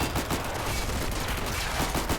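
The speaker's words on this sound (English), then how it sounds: "All the troops hopped out, and they just got absolutely gunned down." Dense, rapid machine gun fire in Army Men: Plastic Wars, a sustained rattling burst of overlapping shots, loud and close, with no talking.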